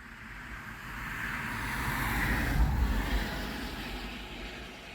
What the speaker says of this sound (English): So I have to deal with some road noise.